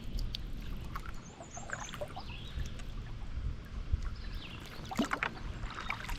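Paddling a canoe on a Wisconsin river, with soft splashes and water trickling around the hull over a low outdoor background, close and fairly quiet.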